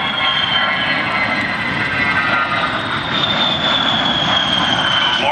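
Jet engines of an A-10 Warthog roar loud and continuous at the Selfridge air base airshow, a steady broadband drone with a high whine drifting through it.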